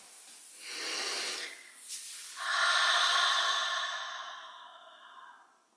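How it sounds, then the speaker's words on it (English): Slow, audible breaths during a seated meditation practice: a soft breathy inhale, a pause, then a longer, louder hissing exhale through the nose or mouth, close up with no talking. "I'm sure you can hear my breathing, just sitting in this space."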